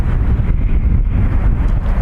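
Heavy wind buffets a microphone outdoors at an airport, a loud, continuous low rumble with rapid gusty fluctuations and no voices.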